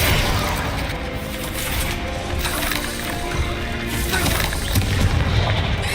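Explosive spell blasts in Hogwarts Legacy keep up a loud, continuous rumble of booms and crackling impacts, with no talking over it.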